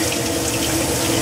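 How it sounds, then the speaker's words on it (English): Tap water runs steadily over a Glock G27 barrel as it is rinsed, a continuous close splashing stream with no pauses. "What I'm doing now is I'm rinsing it under a black light to try to get all the surface stuff off"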